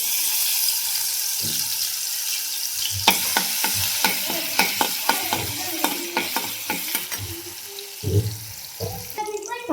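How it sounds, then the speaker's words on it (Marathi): Crushed garlic, coriander and curry leaves hit hot oil already holding mustard seeds and cumin, sizzling loudly and continuously while a utensil stirs and clatters in the pan with repeated sharp scrapes and knocks. "इथं लसूण कोथिंबीर आणि कडपाता ठेचून घेतला होता ते टाकते"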